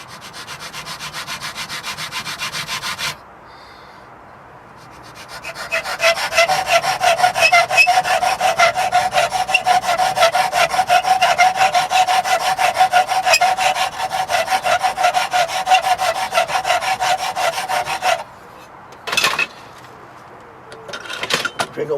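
A coarse rat-tail file rasps against a wooden Bhutanese-style bow, producing steady back-and-forth filing strokes for most of the span after a brief pause, with a few short scrapes near the end.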